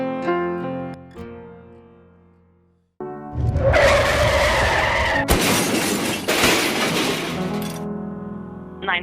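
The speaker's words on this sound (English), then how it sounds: "My car just got hit, and there's really bad injuries." A staged car crash at a high school event: loud skidding and crunching impact noise with a burst of glass shattering, sharp cracks breaking through, following a calm musical lead-in.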